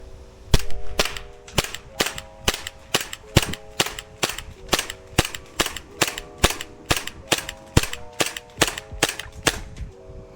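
A Glock 45 airsoft gas blowback pistol fires about twenty BB shots at a steady, fairly quick rhythm. Each shot gives a sharp snap with a metallic slide clack, close by and loud, with no talking.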